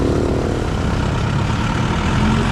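A large vehicle on the road ahead gives off a steady, close, low engine rumble that holds unchanged throughout, with no talking.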